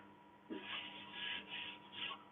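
Rubbing of 500 grit sandpaper over burr horse chestnut wood, four soft rhythmic rasping strokes in close succession, quiet and near, with no talk.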